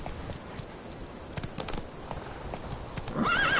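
Roach the horse in The Witcher 3 gallops with steady clip-clop hoofbeats throughout, then gives a loud, close neigh near the end, with no talk over it.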